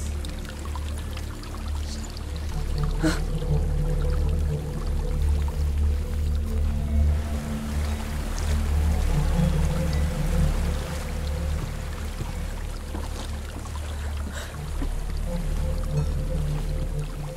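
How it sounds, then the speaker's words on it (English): A waterfall in the video game Hellblade: Senua's Sacrifice gives a steady, full rushing roar of falling water that holds evenly for the whole stretch, with low rumbling undertones and no talk over it. "There's a waterfall."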